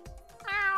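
A cartoon snail's meow from the SpongeBob game Battle for Bikini Bottom Rehydrated, a single drawn-out cat-like cry rising near the end, heard alone with no talk.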